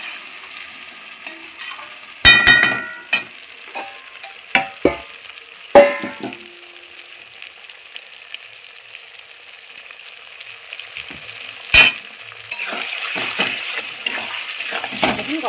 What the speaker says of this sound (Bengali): গরম মশলা দিয়ে আমি আবারও ভালোভাবে নেড়ে নিচ্ছি।